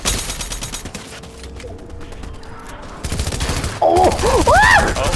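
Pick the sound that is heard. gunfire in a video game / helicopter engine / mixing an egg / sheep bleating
gunfire in a video game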